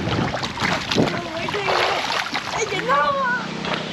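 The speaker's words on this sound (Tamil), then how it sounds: "நான் அதை பார்த்துட்டு அதுக்கு வாய்க்காலுக்குள்ளே காலை விட்டு ஆட்டிட்டு" Water splashes and sloshes in an irrigation canal as bare feet kick and swing through it, a steady close watery churning under someone talking throughout, with wind noise buffeting the microphone.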